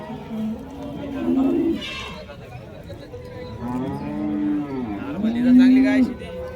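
Cows at the Chalisgaon cattle market, with Jersey, native and Gir breeds, give several drawn-out moos, loud and close, amid crowd chatter and people talking nearby.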